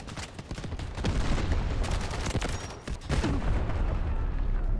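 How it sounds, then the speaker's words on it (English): Tank cannon fire and explosions in a first-person war video game, a dense run of booming blasts and gunfire rolling almost continuously at close range, with no talk. "I'm just getting blown up by a tank."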